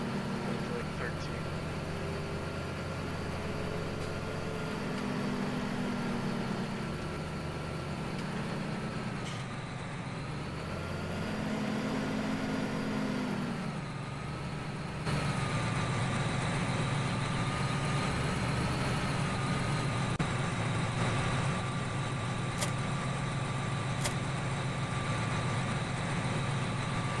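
A tractor engine in Farming Simulator 17 drones steadily while hauling a manure spreader, a constant low rumble with a slight shift in pitch partway through, continuous and close.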